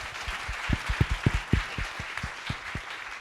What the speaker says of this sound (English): please join me in giving the panel a round of applause